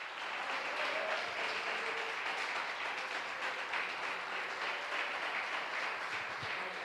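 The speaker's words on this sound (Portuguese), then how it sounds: "aplauda ao Senhor Jesus" A church congregation applauds during a family celebration service, steady dense clapping filling the whole stretch at moderate loudness with no speech over it.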